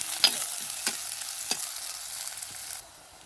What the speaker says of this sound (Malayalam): ചെറുള്ളി കുറച്ചധികം എടുക്കണം കേട്ടോ. അതും ചേർത്ത് കൊടുക്കുക. ഇതൊന്ന് വാറ്റി കൊടുക്കട്ടോ.